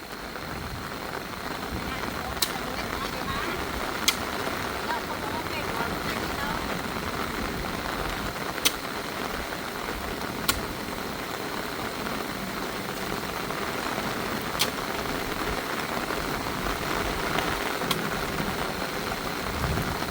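Rain pours steadily at a rural home in Thailand, an even wash of patter with a few sharp drip or tap clicks scattered through it.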